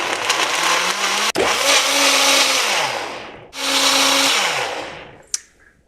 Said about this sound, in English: Okay, so we're going to blend this about 4 minutes.